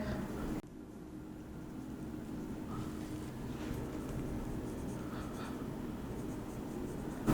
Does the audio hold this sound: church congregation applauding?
no